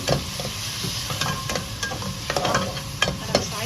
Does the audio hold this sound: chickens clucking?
no